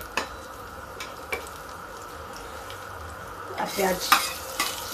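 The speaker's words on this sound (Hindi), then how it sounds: "अब इसी समय हम इसमें लहसुन डाल देंगे" Garlic sizzles in hot oil in a pan while a spoon stirs it, with soft scraping at first and livelier crackling and clinking toward the end, close and moderately loud with a brief spoken word.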